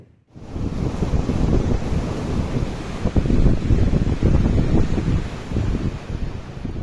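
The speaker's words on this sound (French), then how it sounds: "Tranquillement, la mer grossit tandis que le vent augmente." Rough sea waves and rising wind aboard a sailboat, a loud, continuous roar of surf and gusting wind buffeting the microphone, steady throughout with no voices.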